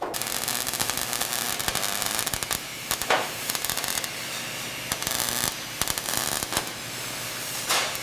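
Welding tack on the body of a restored 100-year-old luxury bus, a continuous crackling, spitting arc hiss with brief pauses and restarts, close and loud throughout.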